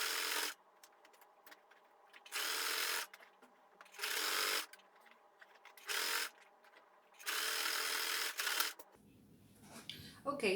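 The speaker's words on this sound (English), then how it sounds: "I'm going to sew close to the very edge." A sewing machine stitches a folded hem close to the edge of a fabric tote bag, running in several loud, steady whirring bursts of one to two seconds separated by short pauses.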